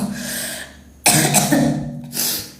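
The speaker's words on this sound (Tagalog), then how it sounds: "Sobra talagang inuubo ako." A person with a very sore throat coughs several times, with harsh bursts separated by short pauses and breaths, close and fairly loud.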